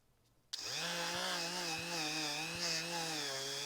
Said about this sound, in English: I'm just using the Dremel with a little brass brush on it just to clean this thing up really good.